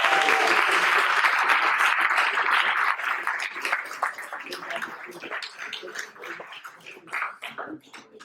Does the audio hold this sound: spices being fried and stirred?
no